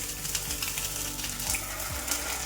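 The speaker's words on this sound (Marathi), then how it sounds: "आता पनीर आपल्याला छान असं शालो फ्राय करून घ्यायचं आहे सर्व बाजूनी" Cubes of paneer shallow-fry in oil in a pan, giving a dense, close, continuous sizzle and crackle with faint pops and a few soft scrapes.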